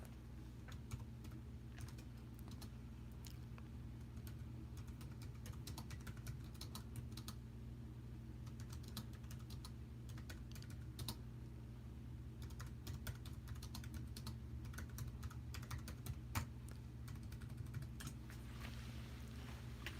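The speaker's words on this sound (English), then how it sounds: "let me type in the chat" Typing on a computer keyboard while writing in a chat: a quiet, continuous patter of soft key clicks in irregular bursts, close by, with no talking.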